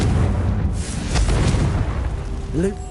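Confringo fire spell blasting in the Hogwarts Legacy video game, a loud, close, rumbling explosion rolling over several seconds with booming low impacts, ending in a brief whooshing magical flourish.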